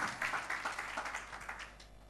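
Congregation applauding during a church worship service, a dense patter of many hands clapping that gradually fades away, with no speech over it.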